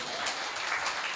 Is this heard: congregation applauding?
yes